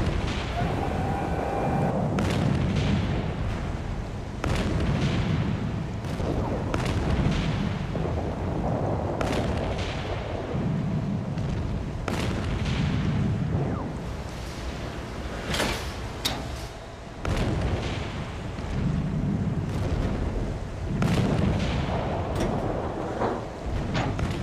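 Heavy naval battleship artillery firing in a battle against the German ship Graf Spee, repeated booming blasts over a constant dense roar, loud and sustained throughout.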